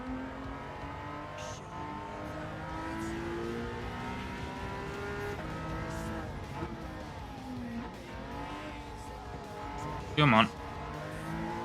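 Race car in Gran Turismo 7 at full throttle, the engine note climbing steadily through the gears with a brief sharp tire squeal near the end, a voice speaking over it.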